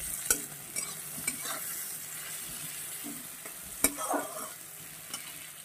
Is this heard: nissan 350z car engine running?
no